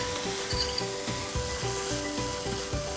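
Spiced masala sizzles and sautés in a hot pan, with a steady frying hiss broken by regular scraping strokes of a spoon stirring it, close and alone.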